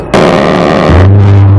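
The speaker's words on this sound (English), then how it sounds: "You hear it first when it fires, and then you hear it echo from the gun in the sky." A thunderous burst of rapid cannon fire from an A-10 Thunderbolt II aircraft in the sky, loud and dense, followed by a deep rolling drone that lingers as it echoes away.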